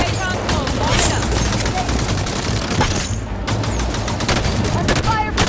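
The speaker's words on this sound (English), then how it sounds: "Under fire from the Phaeton." Rapid gunfire from a Phaeton gunship in Halo 5 rattles in dense, continuous bursts of sharp cracks, loud and close, layered over a busy battle din with faint voices mixed in.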